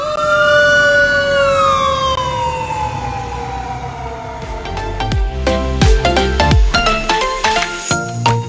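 A fire engine siren wails loud and close in Beverly Hills, its rising and falling tone sweeping steadily before a cluttered burst of honks and engine noise toward the end.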